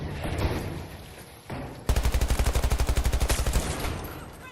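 Rapid automatic gunfire in a Borderlands shooter game, a loud burst of evenly spaced shots after a couple of quieter single reports.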